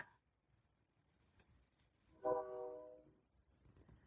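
A train horn sounds outside, distant and muffled, in one sustained blast of about a second that fades out over a quiet, low rumble.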